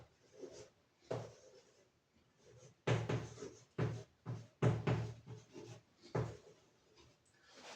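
Marker or chalk scraping on a classroom board while a teacher writes a topic heading. Quiet, irregular strokes come in short separate bursts with pauses between them, and no talk over them.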